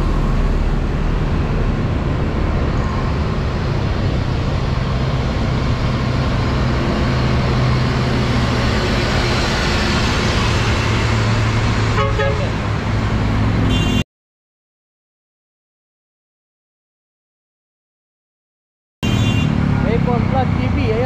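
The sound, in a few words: heavy road traffic with car horns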